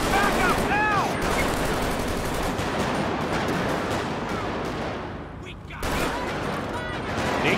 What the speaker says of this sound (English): They got out and started shooting